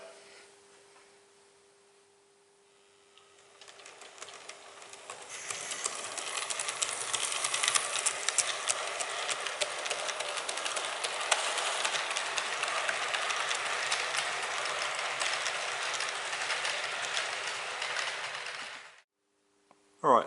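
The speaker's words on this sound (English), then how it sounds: "So let's test the locomotive out." A model railway locomotive running through a level crossing on a renovated layout, its motor starting up with a steady whirring rumble that holds for about fifteen seconds before stopping abruptly, close and with no talking.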